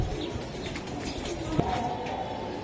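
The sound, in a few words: Giribaz pigeons cooing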